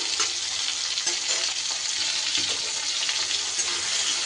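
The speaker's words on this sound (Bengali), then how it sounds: "টমেটোটা তিরিশ সেকেন্ড নাড়াচাড়া করে" Chopped tomato stirred and fried in a pan with panch phoron spices, giving a loud, dense, steady sizzle with intermittent spatula scrapes throughout.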